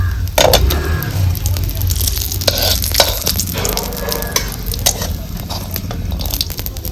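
Cashews roast in a pan for Diwali rava ladoo. Close, busy scraping and rattling of stirring runs over a low sizzle, with faint voice-like sounds mixed in.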